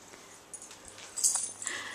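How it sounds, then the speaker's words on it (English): Puppies whimpering just after waking from a nap indoors, giving soft, faint high whines that rise near the end over a quiet background. "And there's my puppies."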